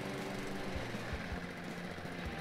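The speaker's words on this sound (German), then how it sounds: "Man braucht kaum Kraft und der Rasenmäher startet schon los." A Brast petrol lawn mower with wheel drive runs steadily, a dense mechanical drone punctuated by regular low thumps from the engine, close by with no talking.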